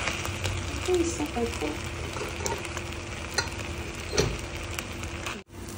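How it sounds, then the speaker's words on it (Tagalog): Suman, a Filipino sticky rice cake made with malagkit and brown sugar, being mixed in a pot: a continuous close stirring and scraping texture with a faint sizzling undertone, and background voices present throughout. "Guys, I'm mixing my suman."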